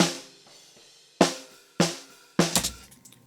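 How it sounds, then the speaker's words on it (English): Snare drum captured from a bottom mic under a thrash metal kit: three loud, deep, fat hits with bright rattling wire buzz and decaying tails, the last followed by a few quicker softer strokes, after a quiet start. "Pretty fat sounding deep snare."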